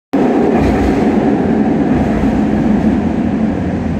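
Loud, steady rumble of an LRT light rail train running, a dense continuous roar that starts abruptly and holds without letup.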